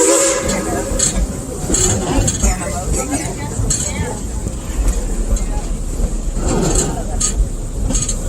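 A small train's whistle sounds faintly, tooted by the crew up in Cinderella, over the steady rumble of a moving ride train, with a crowd and tour narration carrying on throughout.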